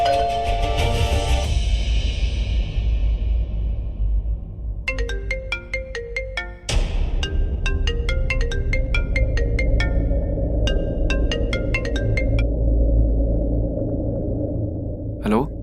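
A phone ringtone plays a repeating melodic pattern in loud, regular bursts over a steady low rumble, cutting out briefly before resuming.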